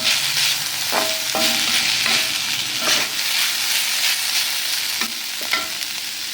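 Ingredients sautéing in a hot pan, including grated coconut for a chickpea gravy paste, with steady frying sizzle and repeated spatula scrapes and stirs against the metal, close up and without voices.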